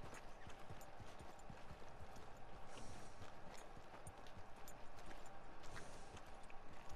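Horse hooves clip-clop steadily in Red Dead Redemption II, a continuous close rhythm of hoofbeats over a dense background of game ambience, with no talking.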